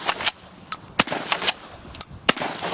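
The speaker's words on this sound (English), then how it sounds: "double-barrel shotgun, and fire 2 blasts." A double-barrel shotgun loaded with flechette shells, each holding a dozen or so tiny steel darts, fires sharp separate blasts, several loud cracks spaced out over a couple of seconds with short quiet gaps.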